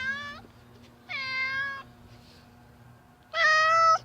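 A stray cat on a back porch meows three times, up close and clear, with short pauses between the calls and a faint steady hum behind them.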